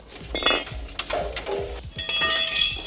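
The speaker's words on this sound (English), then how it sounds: "he can get access to those 10 mil with a ratchet spanner and just undo that bracket" A ratchet spanner undoes 10mm bracket bolts during a bullbar install on a GWM Tank 500, giving close metallic clicks and clinks in quick irregular bursts with no talking.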